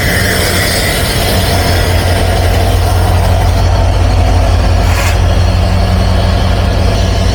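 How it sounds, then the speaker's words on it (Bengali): The 754 Silk City Express intercity train pulls away from Ullapara station in Bangladesh, its engine a loud, steady low drone with a continuous rumble of rolling stock close by. "উল্লাপাড়া স্টেশনে যাত্রা বিরতি সম্পূর্ণ করে ছেড়ে যাচ্ছে train number 754 town silk city express"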